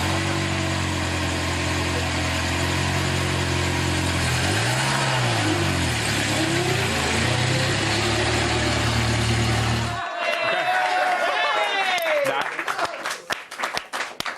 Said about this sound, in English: Driving a car.